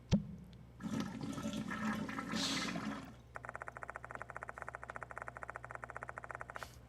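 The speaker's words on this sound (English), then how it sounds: "Several large bubbles rush the water's surface and pop. A gurgling sound immediately accompanies them." Plunger working a clogged toilet in the video game Spirit Hunter Death Mark 2: a soft thump, then a couple of seconds of rushing, gurgling water, followed by a rapid run of repeated tonal blips.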